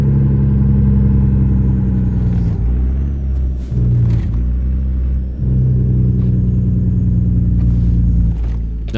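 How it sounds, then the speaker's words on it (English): CAT 3406B truck engine with a straight pipe exhaust, engine braking in American Truck Simulator, produces a loud, deep, continuous harmonic rumble for about nine seconds, briefly dipping a few times, with no voices over it. "Let's use some engine braking."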